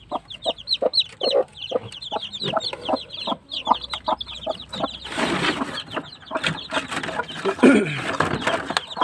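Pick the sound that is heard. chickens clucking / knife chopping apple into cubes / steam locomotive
chickens clucking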